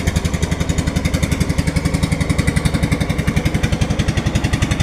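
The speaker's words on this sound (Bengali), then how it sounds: "আর একটা দেখেন ট্রলার, ছোটো একটা ট্রলার যাচ্ছে সামনের দিকে" A small trawler boat's engine chugs steadily on the Ichamati river, a river near the sea, with a fast, even low-frequency thumping pulse that stays loud and close throughout, with no voices over it.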